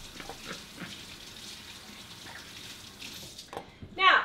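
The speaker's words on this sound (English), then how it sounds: "now let me rinse the shake and bake off my hand" Water from a kitchen tap runs steadily as a hand is rinsed free of homemade shake and bake coating, a soft constant splashing that swells briefly louder near the end.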